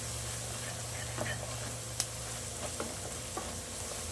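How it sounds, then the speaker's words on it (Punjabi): Steady sizzling of spices, including deggi chilli powder, tempering in hot oil, with a few light clinks and stirring sounds, continuous and close. "ਹੁਣ ਇੱਧਰ ਤੇਲ ਵੀ ਗਰਮ ਆ ਤੇ ਹੁਣ ਲਾਣੇ ਆ ਜੀ ਤੜਕਾ"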